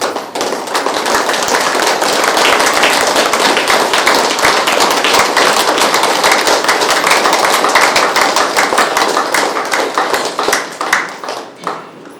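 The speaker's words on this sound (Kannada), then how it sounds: "ಎಲ್ಲರೂ ಜೋರಾದ ಚಪ್ಪಾಳೆ" A large audience at a Krishna Pyramid 16th anniversary program in Siruguppa bursts into loud, sustained applause. Dense, rapid clapping holds steady for about ten seconds, then thins out and fades near the end, with no voices heard.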